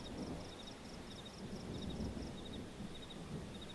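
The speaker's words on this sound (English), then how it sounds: "Like how it's heavy rain and we just hear chirping." Heavy rain in the video game Xenoblade Chronicles X, a soft, constant hiss with a low rumble beneath it and small repeated bird-like chirps above, quiet and steady without speech.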